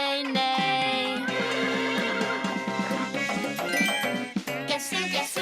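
A horse neighs in a children's farm-animal song, with drawn-out, wavering whinnies layered over steady tonal backing throughout, loud and close.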